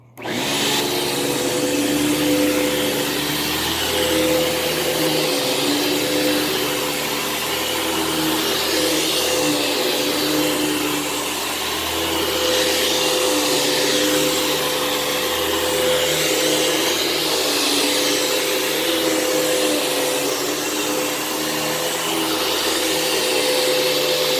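A Eureka TheBoss 4D vacuum cleaner runs at a steady high whine while sweeping a living room floor, with slight shifts in tone as it moves, constant and close throughout.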